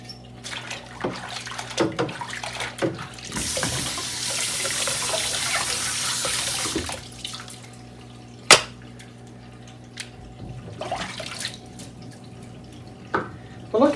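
Running tap water rinses the washable hoses and attachments of a Shark Navigator Lift-Away vacuum, a steady rush for a few seconds, close by, framed by drips, splashes and sharp knocks of plastic parts.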